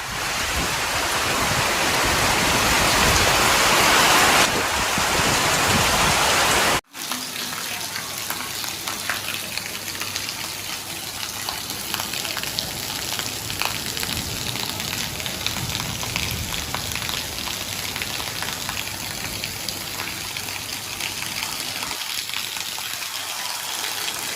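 Heavy monsoon rain in North Gujarat pours down in a dense roaring rush, loud and steady, with a sudden break early on before the downpour continues.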